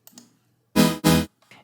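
Serum synth chord patch played dry with no effects, built from two wavetables, one rich in overtones and organ-like. Two short loud chord stabs sound back to back after a few faint clicks.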